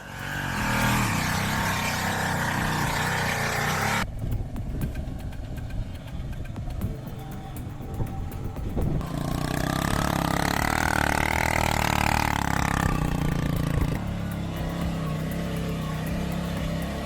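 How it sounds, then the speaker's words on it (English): A motorcycle engine, hauling a load of logs, runs throughout, idling and revving in uneven bursts, close and loud with shifting tone. "Transporting logs by motorcycle."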